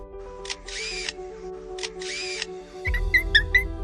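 A wild bird mimics a camera shutter in a forest, giving two clicking bursts with a mechanical whirr, then a few sharp chirps over a low rumble, all fairly close and with no one talking.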